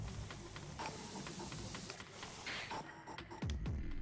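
A power washer from the video game PowerWash Simulator 2 blasts grime with a continuous, fairly loud hissing spray that shifts slightly in tone, joined by a few mechanical clicks and thumps near the end.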